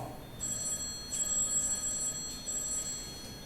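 A telephone rings indoors on a theatre stage, several clear bell-like trills in repeated bursts over a quiet room, heard alone at moderate distance.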